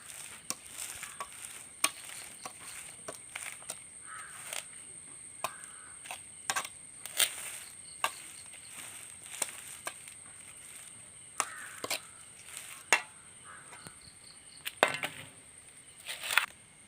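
Fertilizer being mixed into potting soil by hand for a grow bag of brinjal plants: soft scraping and crunching stirs with scattered sharp taps, fairly quiet and close, with no talk.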